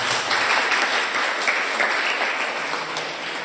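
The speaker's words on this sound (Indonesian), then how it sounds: "Boleh beri tepuk tangan untuk kemuliaan Tuhan." Sustained applause from an audience at a church retreat, a dense wash of clapping that carries evenly throughout and tapers slightly at the end.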